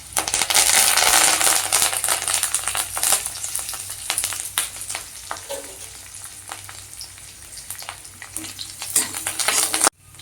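Cumin, green chili, garlic and curry leaves fry in hot oil for a soya Manchurian, a loud steady sizzle with clinks and scrapes of stirring throughout, easing slightly midway, with no voices.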